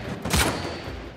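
Gunfire in the video game Uncharted 4: one loud, sharp shot bursts out early and then decays into a rumbling in-game background.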